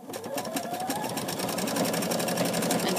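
A sewing machine stitches bias tape onto fabric in a steady, fast continuous whir with a rapid rhythmic needle clatter, close and fairly loud throughout.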